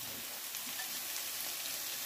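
Washed cabbage sizzling in a pan with fried potatoes, a steady, even crackling hiss with no pauses, fairly quiet and close.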